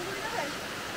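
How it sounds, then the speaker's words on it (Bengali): A waterfall near Jabalpur pours into a natural swimming pool, a dense, steady rushing roar filling the whole moment, with a voice faintly over it. "এসে গেছি একদম ঝর্ণার সামনে"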